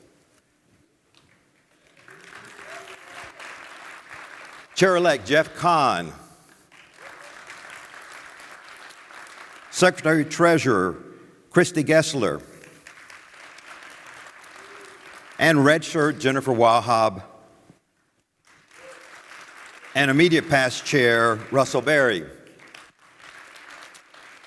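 An indoor audience at a Texas Realtors housing policy forum breaks into several rounds of loud applause. Each round swells and fades between stretches of a presenter's amplified speech introducing the leadership team.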